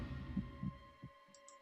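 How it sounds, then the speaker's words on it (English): Heartbeat sound effect from the visual novel game Zero Escape: 9 Hours, 9 Persons, 9 Doors, a few low, muffled thumps at an uneven pace over a steady hum, fairly faint. "Junpei felt his heartbeat quicken"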